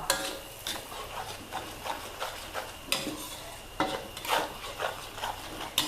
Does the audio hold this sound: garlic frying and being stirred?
yes